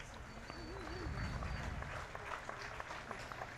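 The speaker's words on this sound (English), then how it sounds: "Give him a clap, folks." Spectators at a New Zealand midget car championship race clap for a driver after a rollover, a scattered, fairly distant round of applause with crowd murmur and a commentator's voice.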